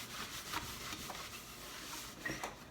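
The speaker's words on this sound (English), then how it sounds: "with a cloth, if I have one over here, I'm just going to wipe that away." Soft, close rubbing and swishing as a cloth wipes sanding dust off a painted wooden fireplace mantle in repeated strokes, quiet and without talk.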